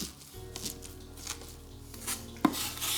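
A knife minces truffle, salt and garlic on a board with quick, evenly spaced chopping taps close by and an occasional harder knock, over a faint steady hum.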